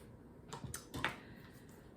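A knife trimming the ends off fresh vegetables on a cutting board during salsa prep, a few soft, quiet taps and clicks close by, ending with a firmer chop.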